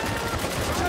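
Gunfire in the video game Spec Ops: The Line, a brief, dense, loud burst of rapid shots filling the whole moment with no pause.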